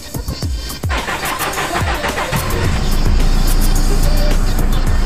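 A Mitsubishi engine, from a Montero Sport or L300 FB Deluxe, cranks with rapid starter clicks, catches and settles into a steady loud idle close by.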